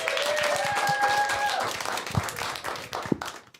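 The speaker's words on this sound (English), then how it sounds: "Let's get another round of applause for all of our performers." Audience applause and cheering for performers at the end of a live radio-station show, a steady wash of clapping with shouts and a tonal voice over it early on, thinning toward the end.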